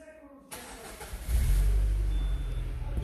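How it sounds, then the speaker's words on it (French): A Citroën Xsara Picasso engine starts after a brief quiet moment, then settles into a loud, steady low idle rumble close by. "Voilà, j'ai démarré la voiture."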